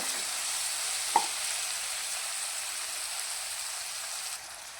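Onions frying in a pan for a masoor dal dish, heard as a steady soft sizzle close by with a single brief scrape of the spoon as it is stirred.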